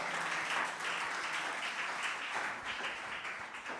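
An audience applauding in a church, giving dense, continuous clapping that stays fairly even throughout.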